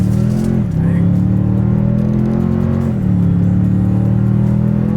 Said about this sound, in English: let's see how quickly we can get our new 2026 Toyota Tundra here up to speed